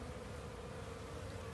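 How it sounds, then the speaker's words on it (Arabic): Dense, steady buzzing of honeybees gathered at a hive entrance, a close, continuous drone with no break and no talking, during a nucleus transfer from a Langstroth hive to a Layens hive. "طبعا النحل عند بوابة السروح، طبعا في نحل متجمع هنا تحت هنا"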